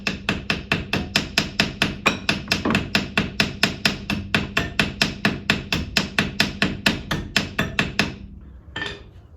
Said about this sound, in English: tap the bolts a bit. Supposedly that breaks up the rust particles